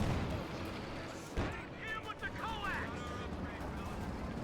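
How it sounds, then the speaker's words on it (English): In a Company of Heroes 2 battle, a Puma armoured car's 50mm gun fires a single sharp boom amid rumbling game battle noise, with voices talking over it. "German bombarded by the Puma and its 50mm gun."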